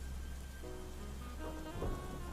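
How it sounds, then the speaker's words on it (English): Rain and thunder ambience plays softly behind a tabletop Call of Cthulhu role-playing session: steady rainfall with a low thunder rumble swelling near the end, and no voices heard. "You can hear the rain outside"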